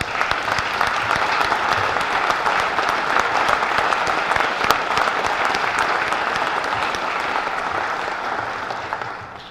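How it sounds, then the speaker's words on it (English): A standing audience at a college presidential inauguration gives Dr. Tracy Pellett a long round of applause, dense and sustained, holding loud before easing slightly near the end. "join me in another round of applause for Dr."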